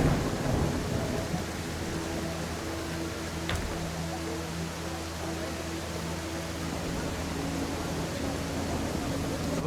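Steady rain hisses throughout a biblical video game scene, with a low rumble of thunder underneath and a brief sharp crack partway through, the downpour sounding close and continuous.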